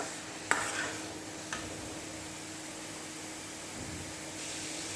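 Vegetables for a chutney to go with dosa and idli are stirred while they sauté, a soft steady sizzle with a couple of sharp utensil knocks early on, quiet and close.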